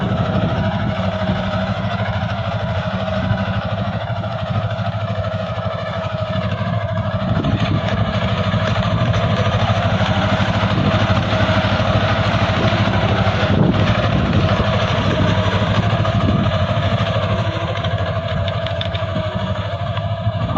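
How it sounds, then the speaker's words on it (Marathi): Small Mahindra four-wheel-drive tractor engine running steadily and loud throughout, a continuous low chugging idle-like drone close by, used for ridging a field for maize planting, with no talk over it. "हा आहे महिंद्रा कंपनीचं छोटंसं ट्रॅक्टर अगदी आता सुंदर असा स्थितीमध्ये चालतं"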